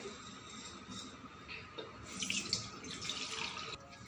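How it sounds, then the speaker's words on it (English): A full glass of water pours steadily into a bowl, a continuous soft splashing and trickling that brightens midway, close and moderately quiet. "Take this bowl and pour this full glass of water."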